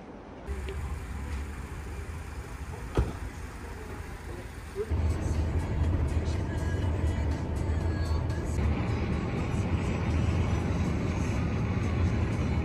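Steady rumble of a car driving on a road trip in Turkistan, heard from inside, with a low engine drone that grows louder and rougher partway through and a brief knock near the start.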